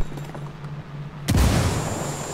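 A grenade goes off in the tactical shooter Ghost Recon Wildlands: after a quiet stretch, one sudden loud boom bursts in and rolls on as a rumbling, hissing tail to the end.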